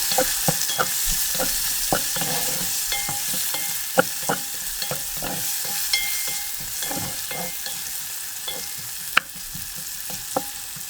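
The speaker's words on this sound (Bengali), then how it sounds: "পেঁয়াজটা হালকা করে ভাজা দিতে হবে" A whole onion frying lightly in white oil with turmeric, a continuous bright sizzle overlaid by regular scraping stirs of a utensil in the pan, steady and close with no talking.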